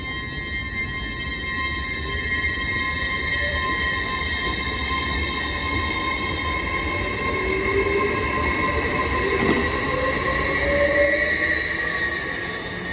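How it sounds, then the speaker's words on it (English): An 802 express train pulling out of the station at Newton-le-Willows for Newcastle, a loud, steady rumble with a sustained high whine and faint wheel squeal throughout. "Train now departing is a 802 Transparent Express service"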